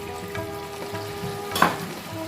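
Spice masala frying in a pan for an ilish fish curry, a soft continuous sizzle with a short sharp hiss burst as water hits the hot pan, close and moderately loud.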